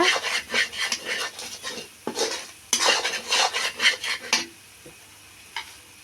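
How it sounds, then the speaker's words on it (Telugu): Egg curry gets stirred and fried with salt in a pan, a spoon scraping and clattering against the metal in rapid close strokes over a faint sizzle, then pausing and leaving a few scattered taps near the end. "ఉప్పు వేసుకున్న తర్వాత బాగా వేపుకోవాలండి బాగా కలుపుకోవాలి"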